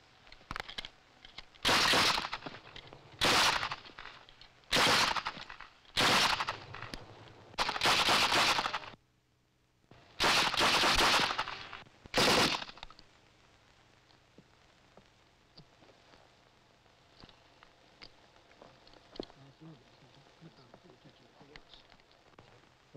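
Rifle fired from the hip in close-combat training, a run of about eight sharp, loud shots in uneven succession over several seconds, then quieter ambient noise as a narrator talks.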